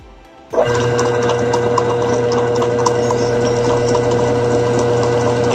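A Whirlpool 360 automatic washing machine with newly replaced bearings starts spinning its drum, kicking in abruptly into a steady, loud mechanical whir and hum with faint rattling that continues evenly.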